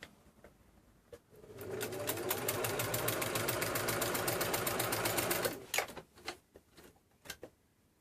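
A sewing machine stitches quilt binding in one rapid, steady burst of needle strokes lasting about four seconds, with quiet handling noises before and brief clicks after it stops.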